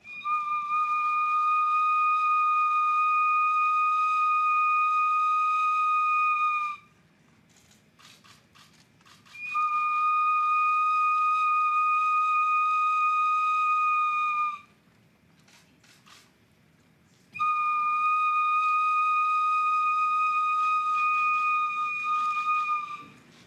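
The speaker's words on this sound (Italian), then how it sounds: "L'anziano sciamano ha fischiato quattro volte attraverso uno strumento in osso" An elderly shaman blows a bone whistle in three long, steady shrill tones of about six seconds each, separated by short pauses with faint rustling, loud and close.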